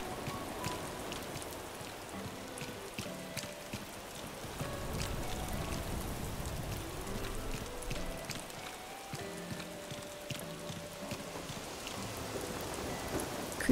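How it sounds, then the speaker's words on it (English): Stormy night rain in the Animal Crossing video game: steady, even rainfall pattering on surfaces, with soft game music tones underneath and occasional low rumbles. "We'll enjoy the rainy night sound as we kind of wander around and find some place that we haven't seen."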